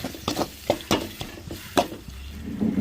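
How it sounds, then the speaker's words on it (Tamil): Onion, tomato and garlic sauté in oil in a pan for an anchovy gravy, light sizzling under a quick run of sharp spatula clanks and scrapes against the metal, close by and without talk. "வெங்காயம் தக்காளி வெள்ளைப்பூடு இன்னும் கொஞ்சம் நேரம் எண்ணெயிலே வதங்கி வரட்டுங்க"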